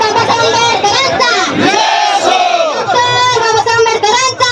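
A large crowd at a Bhima Koregaon commemoration gathering raises loud chanted slogans together, a dense roar of many voices with rising and falling shouts, sustained and forceful throughout.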